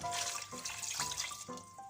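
Half a litre of water pours and splashes into a pot with strawberries and sugar, a steady gushing flow with slight gurgling changes in pitch.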